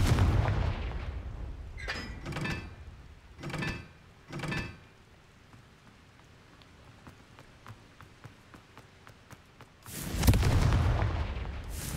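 In Hogwarts Legacy, a Confringo fire spell is cast and explodes: several short booming bursts early on, a quiet stretch, then a larger, louder blast near the end.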